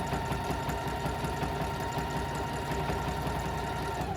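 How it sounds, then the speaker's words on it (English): A sewing machine stitches a jelly roll fabric kitchen rug, giving off a continuous, even mechanical whir with a fast rhythmic chatter that holds steady throughout. "just gently guide the rug here so that the stitching is all even, nothing is pulling"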